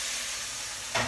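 Cooked pasta drops into a pan of browned butter with salty pasta water and pepper, giving a steady loud sizzling hiss that surges sharply near the end.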